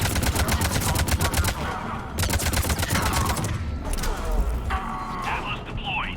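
Rapid automatic gunfire in Mass Effect 3 Legendary Edition, loud and close, with dense bursts and short pauses while voices talk over the shooting.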